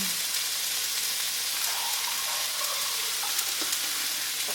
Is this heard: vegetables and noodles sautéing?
yes